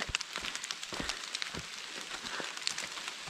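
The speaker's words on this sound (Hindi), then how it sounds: "काफ़ी तेज़ हो रही है बारिश" Heavy rain mixed with hail pelts down hard and close on a mountain trek to Masar Tal, a dense crackling patter with sharper individual impacts scattered throughout.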